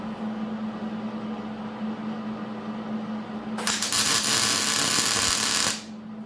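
Tack welding on the steering of a Kawasaki Bayou ATV: after a steady electrical hum, a loud, bright crackling burst of arc starts partway through, holds for about two seconds, then cuts off.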